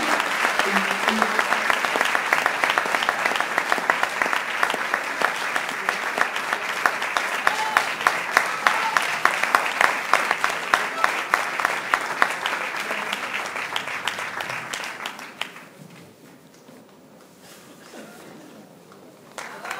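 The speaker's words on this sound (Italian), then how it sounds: "E con questo ultimo pezzo vorrei chiamare Massimo Vecchi, bel applauso." Audience at a live music show in Spilimbergo claps loudly and continuously for a performer, a dense sustained burst of applause that fades out near the end, leaving low room sound.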